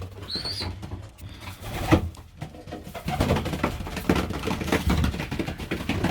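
Pigeons in a loft coo softly among young birds and adults, with rustling and shuffling throughout and a few brief wing movements, fairly close.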